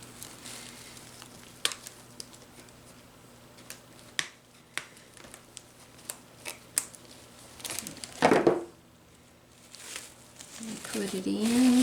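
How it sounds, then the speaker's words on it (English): Scissors cut a long artificial flower stem for a dollar-store Thanksgiving display, giving a handful of sharp snips in an uneven rhythm close by, then rustling handling near the end. "Trim off this long stem."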